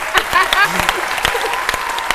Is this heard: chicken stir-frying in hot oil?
no